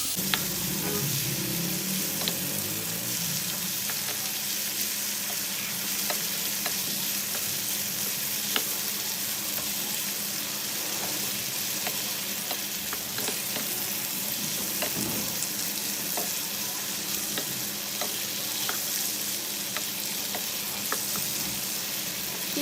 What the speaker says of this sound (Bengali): এই মশলার সাথে নেড়ে ছেড়ে কিছুক্ষণ ভেজে নিচ্ছি